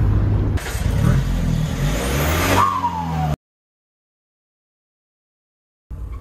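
A Mahindra Scorpio S11 with a modified straight-pipe exhaust revs hard and roars up in pitch, cuts off abruptly into silence, then the rumble returns briefly at the end.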